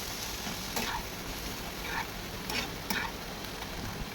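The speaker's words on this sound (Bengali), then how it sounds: "অল্প অল্প করে জল দিয়ে নাড়াচাড়া করে ভালো করে" Curry frying in a pan on low heat as water is added bit by bit, a steady close sizzle with a few brief scraping stirs of a spoon, no talking.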